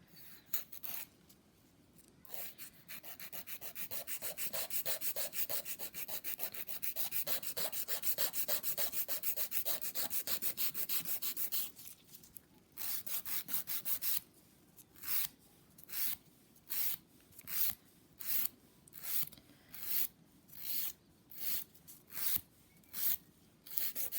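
A fingernail being filed with a 180 grit nail file: rapid continuous rasping strokes for about twelve seconds, then a pause and a run of slower, separate strokes, close and fairly quiet.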